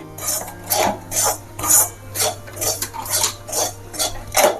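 A spoon scraping and stirring semolina and flour as they roast in a pan for Iyengar-style kodubale, repeated rhythmic metal scrapes close by, about two per second, with a low steady hum underneath and no talk.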